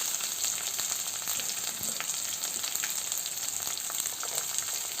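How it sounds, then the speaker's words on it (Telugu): Chana dal, green chillies and onions sizzle steadily in hot oil for rava upma, a close, continuous hiss and crackle with occasional light stirring and no voices. "ఇవి రెండు బాగా ఫ్రై అయ్యేంత వరకు ఫ్రై చేసుకుందాం."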